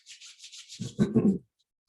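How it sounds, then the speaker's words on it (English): Palms rub together in a yoga session, a soft, quick hissing swish followed by a fuller, louder friction, brief and close, then silence. "Rub your palms."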